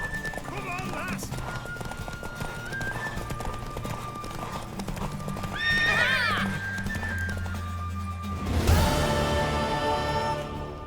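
Horse in The Witcher 3 video game, clip-clopping hooves and a whinnying neigh over game music, with voices speaking in the background.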